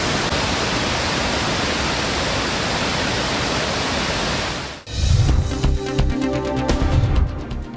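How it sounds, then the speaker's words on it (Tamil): The Thiruparappu waterfall in Kanniyakumari, flooding after heavy rain, gives a loud, steady broadband rush of pouring water, cut off abruptly midway and followed by a few seconds of lower, uneven sound. "கன்னியாகுமரியில் பெய்து வரும் கனமழையால் திருப்பரப்பு அருவியில் வெள்ளப்பெருக்கு."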